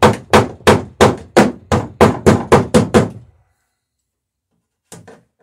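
A hammer peens rivets on a wooden dory plank: about eleven sharp, evenly spaced blows in a quick run, a pause, then two lighter taps, close and loud.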